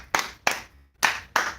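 Hands clap four times in an uneven rhythm, sharp and close, with a short pause between the second and third claps.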